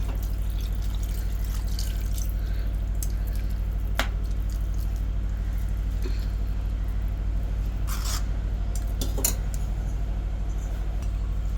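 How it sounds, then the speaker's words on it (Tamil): Coconut milk is poured into a pot of mutton nonbu kanji, a Ramadan rice porridge, giving soft drips and liquid splashes over a steady low background hum, with no talking. "இப்போ நம்ம இதில் தேங்காய் பால் ஊற்றிக்கலாம்"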